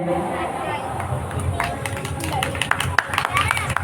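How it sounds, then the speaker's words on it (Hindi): An audience at a Ganeshotsav society celebration claps after a dance performance, scattered hand claps building amid crowd chatter and talking voices. "आपको ताली का आवाज सुनाई दिया?"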